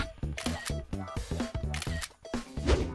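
Several camera shutter clicks snap in quick succession as a selfie is taken, mixed with busy rhythmic background sound.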